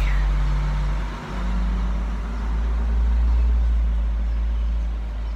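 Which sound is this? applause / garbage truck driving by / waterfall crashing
garbage truck driving by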